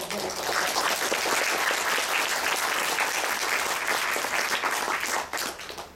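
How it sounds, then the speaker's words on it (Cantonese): A seminar audience applauds warmly to welcome a speaker, a dense, steady round of clapping from many hands that holds for several seconds and then begins to thin out. "首先咧熱烈嘅掌聲咧歡迎"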